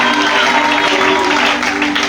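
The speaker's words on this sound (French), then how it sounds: "Nous acclamons Jésus pour la vie." A congregation at a church convention closing ceremony applauds loudly, with dense sustained clapping and crowd noise filling the whole stretch at close range.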